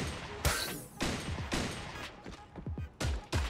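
Rapid gunfire fills a Fortnite-style battle royale shooter, with loud, dense bursts of shots and booming reports cracking in quick succession throughout, no speech over it.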